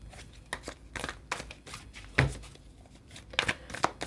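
A tarot deck being shuffled by hand, with a series of soft irregular riffling and flicking bursts close by and no talking over them.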